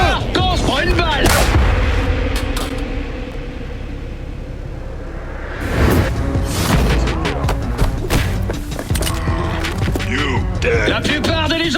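Gunfire rings out in the video game Cyberpunk 2077. Heavy, booming shots come in a burst, then a louder cluster of sharp blasts follows after a brief quieter stretch, over dense game effects.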